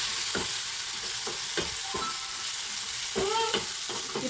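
A spoon stirs chili powder into tomato curry in a hot pan, scraping in short strokes over a constant loud sizzle of frying, with no voices.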